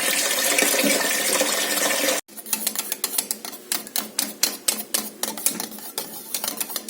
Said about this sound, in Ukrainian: Наливаємо холодну воду.